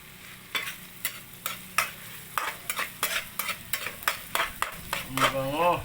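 Food frying in a pan and stirred with a utensil, giving a steady sizzle and a run of regular scraping strokes, with a brief tonal sweep near the end.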